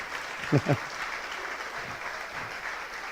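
A church congregation applauds after a call to praise the Lord during a sermon on the Protestant Reformation, a broad steady wash of clapping with a couple of brief voice bursts near the start.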